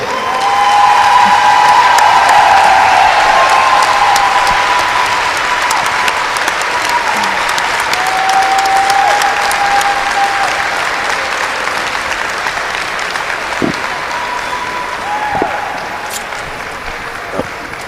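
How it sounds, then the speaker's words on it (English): A large crowd at a college basketball game, Alabama Huntsville against University of West Alabama, gives the departing Tigers a sustained standing ovation: loud, dense applause with scattered whoops and whistles, steady throughout before slowly easing. "as the Tigers leave the court, please give them a standing ovation"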